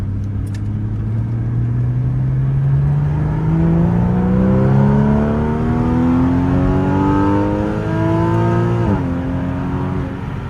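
A Porsche Boxster with a 265 hp 2.7-litre flat-six accelerates hard, its engine note rising steadily through one long gear before a quick shift near the end, loud and close from inside the car.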